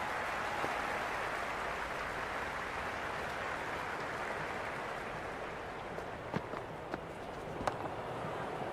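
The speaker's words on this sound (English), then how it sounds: "The crowd is electric right now" A cricket stadium crowd roars in the Cricket 26 video game, a steady broad wash of cheering noise throughout with a few sharp claps or thumps near the end.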